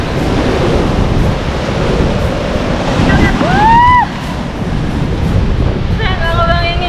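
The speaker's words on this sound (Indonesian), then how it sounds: "lihat di sana ada ombak." Ocean waves and surf wash steadily against the Sriti sea cliff, a broad continuous roar with some wind, loud and close throughout, while a few brief tonal whistles rise and fall in the middle of the wash.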